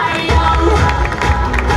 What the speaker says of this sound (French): on l'applaudit bien fort, Marie-Hélène Marty, de la Bastide Césérac